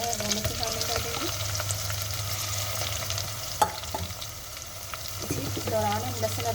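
Minced meat with chillies and onions frying in a pan, a steady close sizzle with stirring scrapes and occasional pops, plus a low background hum.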